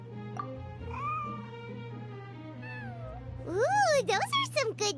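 A cartoonish cat in Genshin Impact lets out a run of loud, rising and falling meows near the end, after a softer stretch of voiced sounds over a steady low hum.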